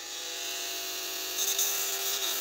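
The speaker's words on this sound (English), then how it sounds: "I'm just going to make this a little straighter using this sander." A small electric sander smoothing and straightening a wooden piece for a skiff build, with a continuous high buzzing whir that stays close and even and grows slightly rougher partway through.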